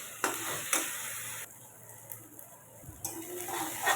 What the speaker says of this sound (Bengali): এটাকে 5 মিনিট একটু ভাজা করে নেব।